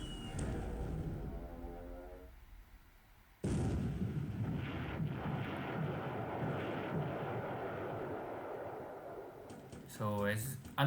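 A torpedo strikes a ship in the naval strategy game War in the Pacific, with a sudden booming blast that rumbles on. Someone talks over it.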